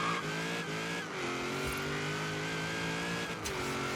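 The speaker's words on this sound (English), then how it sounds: "Listen to the supercharger" Supercharged Chevy Bel Air gasser engine accelerating in the racing game Forza Horizon 3, a steady loud rising drone with a whining harmonic, briefly easing off and pulling again.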